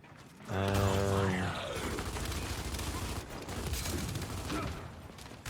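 Gunfire and weapon mechanisms from Gears 5 arcade-mode multiplayer, a loud burst of shots early on followed by continuous clattering combat noise and mechanical rattles throughout.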